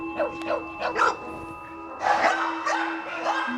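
Dogs at an animal shelter bark in short excited bursts, several barks near and echoing in an enclosed space, with a steady tonal hum underneath.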